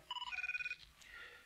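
Phone ringtone from the TV show 24, a short burst of rapid, evenly pulsed electronic beeps followed by a fading tonal tail, fairly faint, with no talking over it.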